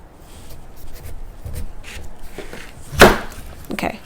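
A jicama root vegetable being peeled by hand with a knife, giving soft scraping and rubbing strokes close up, with one sharper cut or scrape standing out partway through and a lighter one near the end.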